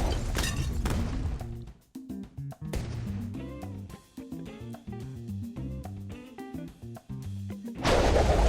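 Fire bomb explosions burst in Bloons TD6 amid a dense stream of rapid game effects, with loud booming blasts near the start, around the three-second mark and at the end over continuous tonal music.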